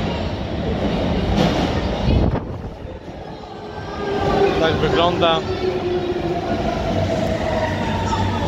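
A Shanghai metro Line 2 subway train rumbles and clatters through a station, rising and falling in loudness, with a short spoken remark over the noise.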